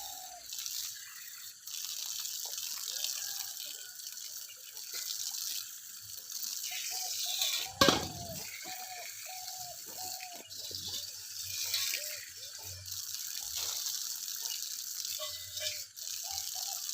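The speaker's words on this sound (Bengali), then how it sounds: "তো দেখো এখন আমি জলটা ভরে নিই" Drinking water fills from a tap outdoors on a foggy early morning, with a faint steady trickle broken by small rattles and clanks of the container and one sharp knock.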